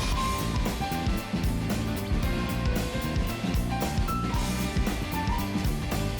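Jujutsu Kaisen anime soundtrack excerpt with a confident, well-defined piano melody over a dense, busy band arrangement with steady percussion, full and continuous throughout.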